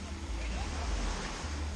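Surf rolls onto the beach at Hon Tam island near Nha Trang in windy, rainy tropical-depression weather, a steady roaring wash heavily mixed with wind buffeting the microphone.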